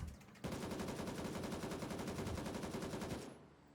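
Sustained full-auto burst from an AK-74N rifle in the video game Gray Zone Warfare, a rapid, even stream of loud shots lasting about three seconds before cutting off, with no talk over it.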